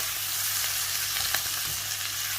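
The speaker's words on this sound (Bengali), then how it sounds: "মশলাগুলোকে কষিয়ে নিব" Spices being sautéed in oil in a pan for radish curry, a continuous close hiss of frying with a few soft stirring taps, steady and moderately loud without voices.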